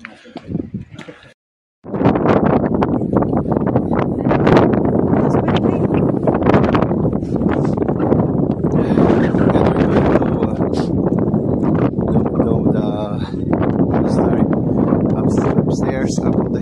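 Strong wind buffets the microphone on a hilltop above Sevan Lake in Armenia, a loud continuous roar that starts after a brief quiet moment and stays steady for the rest.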